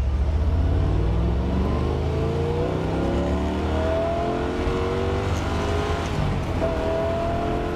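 A 1971 Corvette LT1 convertible's V8 revs hard and loud, with rising pitch sweeps as it climbs through the gears and then settles into a steady higher drone near the end.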